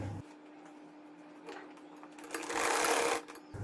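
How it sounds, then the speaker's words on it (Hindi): A sewing machine stitching folded pleats into fabric for a poncha garment design, a steady close mechanical whir that swells louder toward the end. "इतने पे रखकर जो है हमने सिलाई लगानी शुरू कर दी"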